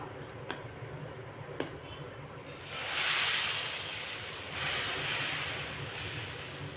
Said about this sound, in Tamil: தவா வச்சுட்டோங்க சூடாயிட்டுருக்கு நம்ம இப்போ வந்து அடை தோசை ஊற்றிக்கலாம்